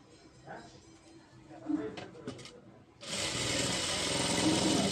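A sewing machine stitching a silk saree blouse starts up after some handling noises and runs as a steady, loud, continuous whir for the last two seconds, close by, with no talk over it.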